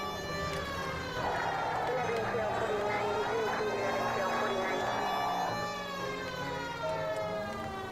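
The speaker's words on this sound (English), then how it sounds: "I had the sirens on and everything." In L.A. Noire, a police car siren wails on and off, rising and falling in steady sweeps through the whole stretch, loud and close over a constant engine drone.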